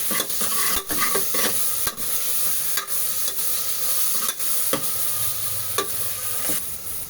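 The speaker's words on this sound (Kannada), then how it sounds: "ಶುಂಠಿ ಬೆಳ್ಳುಳ್ಳಿ ಪೇಸ್ಟು ಸ್ವಲ್ಪ ಹಸಿ ಸ್ಮೆಲ್ಲು ಕಡಿಮೆ ಆಗೋ ತನಕ ಲೈಟಾಗಿ ಫ್ರೈ ಮಾಡ್ಕೋಬೇಕು." Ginger-garlic paste fries in a pan with a steady close sizzle, broken by repeated sharp scraping clicks as a spoon stirs it, with no voices.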